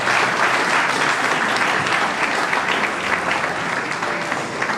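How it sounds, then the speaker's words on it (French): An audience at a gala evening applauds to welcome Rita & Services, a dense, loud, continuous wash of many hands clapping that holds steady throughout. "Mesdames et messieurs, sous vos applaudissements, Rita et Services"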